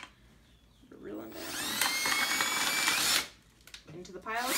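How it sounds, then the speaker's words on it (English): A power drill bores holes through plastic solo cups, three to a cup, while tomatoes are being potted up for bottom watering. One steady, close, high whine lasts about two seconds and then cuts off, with talk before and after. "So I am drilling holes into my solo cups"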